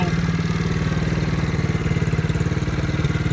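A Chinese 110cc four-wheeler (ATV) idles close by with a rapid, even putter that pulses steadily and never stops, loud and alone.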